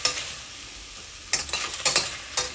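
Quartered strawberries cook with sugar in a pan, giving a steady soft sizzle broken by several sharp stirring scrapes in the second half, close and with no voices.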